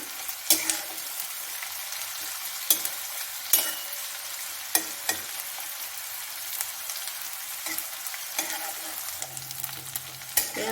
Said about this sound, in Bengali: এবার তেলটাতে পেঁয়াজ কুচি দিলাম